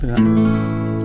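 A single sustained chord rings out after a quick strum, its tones holding steady and slowly decaying.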